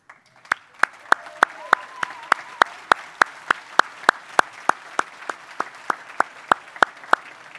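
At an annual membership gathering, board members are recognized with rhythmic, evenly spaced sharp claps that stand out over a soft crowd murmur, as if led in unison, continuing steadily throughout.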